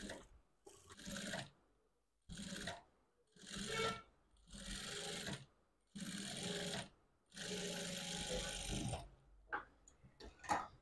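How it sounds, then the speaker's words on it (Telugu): A sewing machine stitches piping along a blouse neckline in several bursts of steady mechanical whirring, a few seconds each, separated by pauses and ending with some light handling clicks. "ఇదే కుట్టు పైన కుట్టు పడేలాగా ఇంకో కుట్టు అనేది వేసేసుకుందాం"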